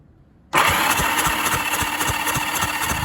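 Car engine starting after a moment of near silence, catching at once and settling into a cold idle with a steady, loud pulsing rhythm, the engine having a fault where cylinders three and four drop out intermittently.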